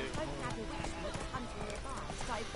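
Roach the horse in The Witcher 3: a steady, rhythmic clip-clop of hooves at a gallop, played quietly under continuous talking.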